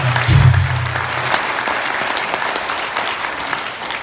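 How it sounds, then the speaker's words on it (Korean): Audience at a patriotic rally-style gathering breaking into steady, dense applause that starts with a strong burst and continues evenly throughout, fairly close and loud with no speech over it. "동의하시면 함께 박수로 맞아주시면 좋겠습니다"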